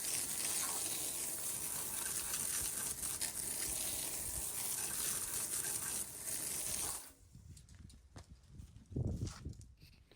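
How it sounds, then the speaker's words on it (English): A hose sprays a steady rush of water over car wheels, loud and continuous, then cuts off, leaving quieter dripping and splashing noises. "let's give both of these wheels a good rinse"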